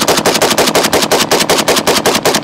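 Rapid string of 7.62 rifle rounds fired at a shooting range, heard as sharp cracks in a fast, even rhythm, loud and continuous for the whole stretch with no voices.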